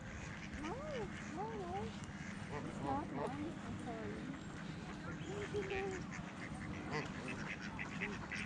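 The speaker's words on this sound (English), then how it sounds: "The mallards here, these are the green-headed ones. They're the mallard ducks." Mallard ducks quack repeatedly at Deer Lake, a scattered chorus of bursts over steady outdoor background noise.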